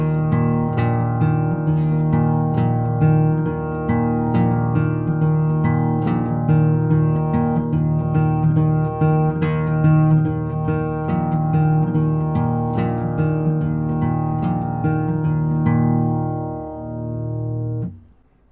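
An acoustic guitar plays the picking pattern from a song at practice pace, with repeated plucked notes and chords in a steady rhythm over about eighteen seconds before the last chord rings out.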